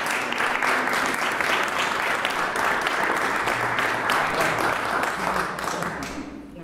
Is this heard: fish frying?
no